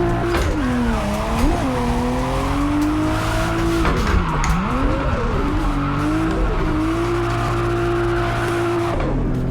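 A car drifts in the Assetto Corsa racing game without the handbrake, its engine note rising and falling under long, wavering tire squeal that runs almost without a break.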